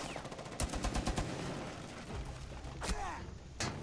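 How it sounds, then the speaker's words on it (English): Rapid machine gun bursts in Rainbow Six Siege on the Bank map, a fast run of sharp shots followed by a few separate loud reports, with muffled voices talking underneath. "Just, don't stay on the machine gun."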